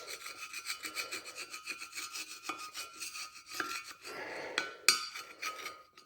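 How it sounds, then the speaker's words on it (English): Blade scraper or wood chisel scraping old gasket off an alloy cylinder head being stripped for scrap, a close, gritty rasping in uneven repeated strokes with a few sharp metallic clicks. "Use a blade scraper, wood chisel."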